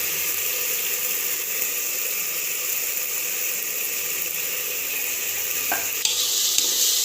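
Masala with a little turmeric fries in oil in a pot for mutton biryani, sizzling steadily and close, with a couple of brief utensil knocks near the end and no voices.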